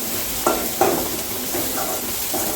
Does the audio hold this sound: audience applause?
no